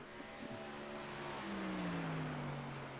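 A race truck in an ARCS truck series event powers down the backstretch with its engine roaring hard on the throttle, the loud note climbing steadily as it accelerates.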